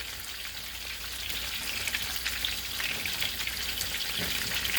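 Pieces of squirrel fry in a pan with a steady, dense sizzle that swells slightly after the first second and holds without a break, close and fairly loud with no voices.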